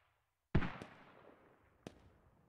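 A single sharp, booming gunshot from the Squad military shooter game, fired through a wall, with a long decaying echo and a second fainter crack about a second later, otherwise quiet.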